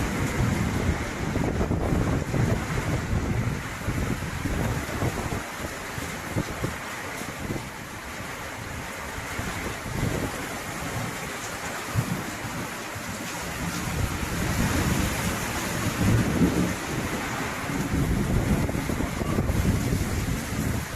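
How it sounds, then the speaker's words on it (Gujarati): A strong storm with heavy rain over wheat fields brings a loud, steady roar of wind and rain buffeting the microphone, gusting up and down throughout without any voices. "જોયો ને વરસાદ કેમ પડે, પણ પવન કેટલો છે"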